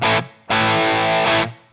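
On its distortion preset, an Enya Inspire smart guitar plays a short chord stab followed by a longer sustained crunchy chord, loud and up close, with no talking.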